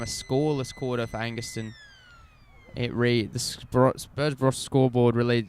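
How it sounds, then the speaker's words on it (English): A long, steady football ground siren sounds for three-quarter time at a country Australian rules match, with the tone gliding slowly downward beneath an excited commentator talking over it. "And that is the siren for three-quarter time."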